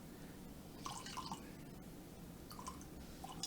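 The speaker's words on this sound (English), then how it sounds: "Want to make sure I pour an even amount for both of us." Jack Daniel's Old No. 7 whiskey and Coke poured into glasses, faint trickling and dripping liquid in short bursts against a soft background hiss, close by, no talking.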